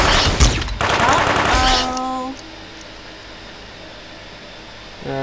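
Shotgun fire in the video game UFO: Aftermath, a loud burst of blasts in the first two seconds that leaves a ringing tonal tail and then a quiet hum of game ambience.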